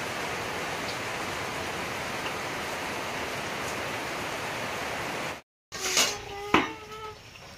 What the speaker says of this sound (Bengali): আমার তেল গরম হয়েছে, আমি দিয়ে দিই একটা